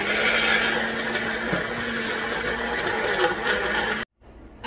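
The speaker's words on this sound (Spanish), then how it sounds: "Y vamos a licuar esto." Blender whirring steadily as it mixes almond flour crepe batter for keto crepes, a continuous motor drone filling the kitchen before cutting off abruptly near the end.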